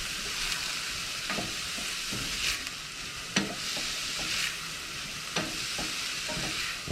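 Garlic frying in a pan for soup gives a steady, close hiss, with scattered small pops and a few sharper crackles throughout, and no voices.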